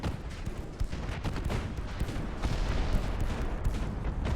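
Destroyer guns firing in Ultimate Admiral Dreadnoughts, a dense run of booming shots layered over one another with no pause, loud and steady from start to end.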